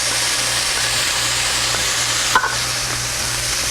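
Pork browning with bean sauce in a wok for mapo tofu: a loud, dense, continuous stir-fry sizzle, with one brief utensil scrape partway through.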